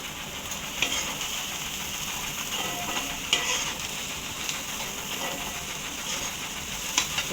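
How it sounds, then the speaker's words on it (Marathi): Carrot and cabbage being stir-fried in a pan, a steady, close sizzle with occasional scraping clinks of a utensil against the metal running throughout. "मग टाकायचं गाजर, त्यानंतर टाकायचं कोबी आणि हे 2 मिनिटं चांगलं परतवायचं."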